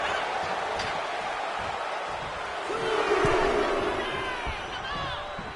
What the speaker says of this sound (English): Look at Gunther taking in all the energy from the crowd